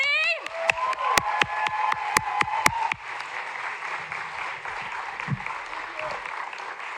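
Town hall audience at a college in Grinnell, Iowa claps for Michael Moore, dense applause with a few sharp loud claps up front, then a steady crowd clapping that settles slightly softer toward the end.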